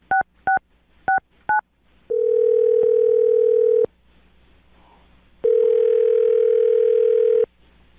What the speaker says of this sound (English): I'm going to dial the phone number right now and see if we can get him on the phone.